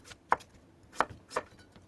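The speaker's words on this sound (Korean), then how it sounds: "이렇게 해서 두께는 약간 도톰하게 썰어줍니다" A knife strikes a board three times while slicing old pumpkin into thick pieces, each chop a crisp, close thud spaced unevenly in otherwise quiet surroundings.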